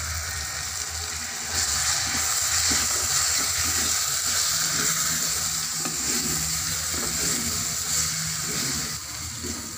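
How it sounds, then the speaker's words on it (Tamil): Chili powder and chopped bottle gourd sauté in a pan for a Tamil black-eyed pea and gourd kuzhambu, giving a steady close sizzle with soft stirring scrapes throughout and no talk. "இன்னும் மிளகாத்தூள் சேர்த்து 2 நிமிஷம் வதக்கிங்க."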